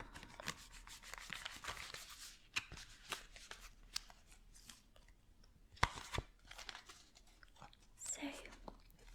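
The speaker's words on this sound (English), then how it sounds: "I'm just going to give them a shuffle" Tarot cards being shuffled in a soft-spoken ASMR reading, quiet close-up riffles and slides of the deck coming in irregular bursts, with faint soft rubbing between them.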